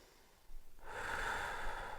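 Heavy breathing during a mobility stretching workout: quiet at first, then a sudden sharp intake followed by a long, rough, sustained breath close to the microphone.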